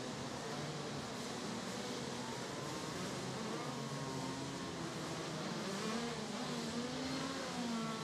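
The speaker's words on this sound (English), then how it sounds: "assistant race director, Mr. Marco Carlino, courageously stands in front of 31 shifter carts with the red flag" A pack of 31 KZ2 shifter karts racing at the Lonato circuit, their engines forming a continuous distant buzzing drone with rising and falling revs as the field runs together.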